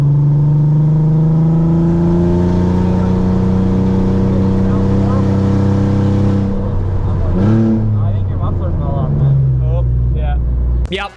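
A VW R32 on a race circuit with a broken exhaust, the engine roaring loud and raw as it climbs steadily through the revs, then drops and rises in shorter bursts, with speech heard partway through.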